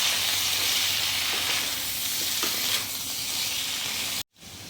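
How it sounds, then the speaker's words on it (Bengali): Potatoes sizzling in a pan with turmeric, coriander and Kashmiri chilli, a loud continuous close frying hiss with faint stirring scrapes, alone, ending in an abrupt cut. "এখানে আমার আলুটা কষানো হয়ে গেছে"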